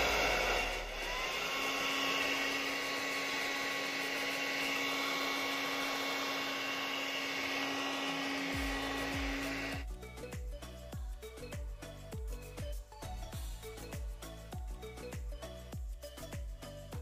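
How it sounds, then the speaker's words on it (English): Low-heat hair dryer blowing air over 3D-printed resin dental models, a steady whir for about nine seconds that then breaks into a choppy, pulsing rush of air. "I use a low heat hair dryer."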